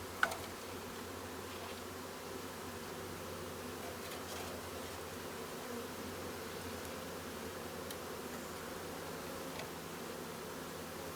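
A newly installed package of honeybees from Conrad's Hive and Honey drones with a steady, faint, continuous buzz at a hive entrance, with no pauses or talk.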